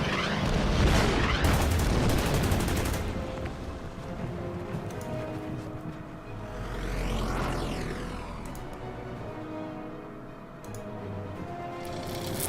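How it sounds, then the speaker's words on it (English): Artillery fires in the World War II strategy game Order of Battle, during a desert sandstorm scenario: a cluster of heavy booming blasts at the start, then softer rumbling impacts and a sweeping tone fading out. "Get the artillery in position."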